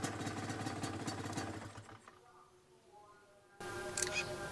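A Thai-built Honda NSR 150 RR two-stroke motorcycle engine runs with a rough, rapid firing pulse for about two seconds, then falls away to quiet before a different, brighter noise cuts in.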